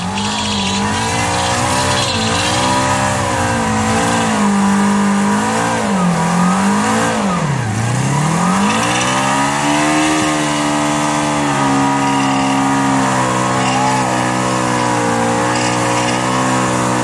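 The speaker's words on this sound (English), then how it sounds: "Only one real man on a gold wing showing up for the burnouts here." A Honda Gold Wing motorcycle doing a burnout at a motorcycle burnout event, engine droning steadily and loudly with pitch wavering and dipping as the rear tire spins, sustained for the whole stretch with no talking.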